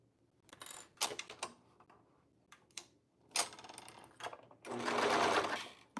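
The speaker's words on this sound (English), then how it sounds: "Let's sew this together." A sewing machine stitches fabric in several short bursts of rapid mechanical whirring, ending with a longer sustained run, close and fairly loud.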